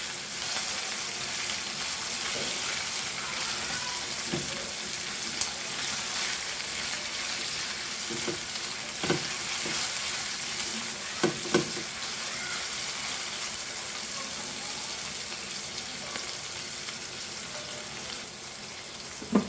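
Broken Kashmiri chilies sizzle in hot oil in a frying pan for a Goan stir fry, a loud, steady crackling hiss that goes on throughout with occasional faint pops and stirring knocks.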